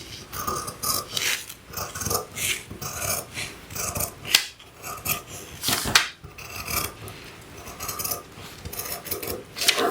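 Fabric cut for the back waist pattern piece of a dress, a run of close, rhythmic rasping snips and rubbing strokes with no voices.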